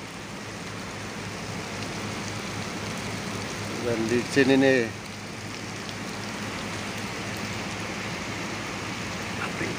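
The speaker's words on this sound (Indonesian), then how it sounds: "Hujan bosku, hujan, hujan." Steady rain drums and hisses around a truck during a night haul to pick up a 20-ton boom crane, continuous throughout, with a voice briefly speaking over it midway.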